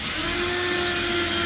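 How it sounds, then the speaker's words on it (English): A power drill runs steadily while driving screws into a wardrobe shelf during fitting, a loud continuous whine with no pause and no voices. "as he's pushing with the drill bit."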